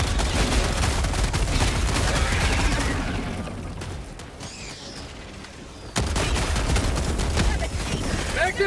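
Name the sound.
grenade explosion in Helldivers 2 video game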